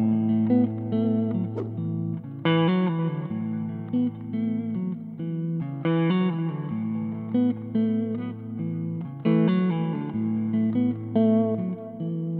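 A Les Paul electric guitar played through an amp on the neck pickup gives warm, mellow sustained chords and notes that change every couple of seconds, loud and close with no talking.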